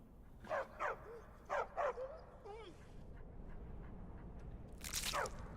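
Dog barks and whimpers from a dog in the video game Skyrim, a few short yelps in two quick pairs followed by a whine, over game ambience and background noise.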